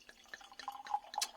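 Whin Hill medium sparkling perry poured into a glass, with close, faint splashing and dripping liquid trickles and a few bright clinks building toward the end.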